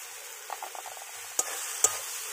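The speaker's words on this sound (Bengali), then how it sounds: "বন্ধুরা মশলাটা কিন্তু ভালো করে কষিয়ে নিতে হবে।" Bengali spice masala of turmeric and coriander powder being stirred and sautéed in a pan for a river fish curry, with soft steady sizzling, a few gentle scraping stirs and two sharp spoon knocks against the pan.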